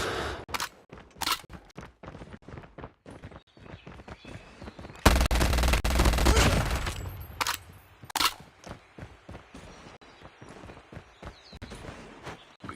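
Gunfire from the Call of Duty mobile game, a run of sharp shots spaced through the scene with a loud sustained burst of fire near the middle, mixed with footstep-like clatter.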